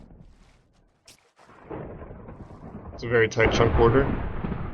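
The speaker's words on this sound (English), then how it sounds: "that lightning's pretty constant. It's also pretty loud." Thunder from lightning in a Minecraft world rumbles in a deep rolling wave after a sharp crack, loud and building, while someone talks over it.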